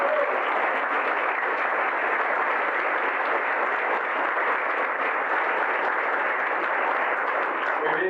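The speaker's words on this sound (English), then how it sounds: "Please give them a nice round of applause." Sustained, dense applause fills a room at a recovery resource center breakfast as the board of directors stands to be recognized, an even wash of clapping lasting the full eight seconds.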